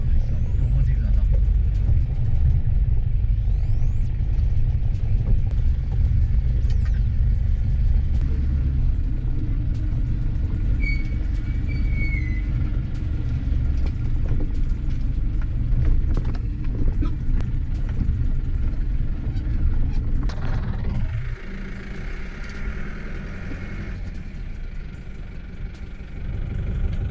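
A 1999 Mahindra Marshal DI diesel engine runs with a deep, loud rumbling idle close by, steady for most of the stretch before the tone shifts and drops near the end.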